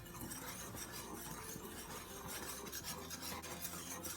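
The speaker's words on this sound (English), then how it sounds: "all we do is whisk them together until it's well incorporated" Whisk scraping and rasping through flour and sugar in a bowl, a continuous quick rubbing stir that stays close and fairly quiet, with no talking.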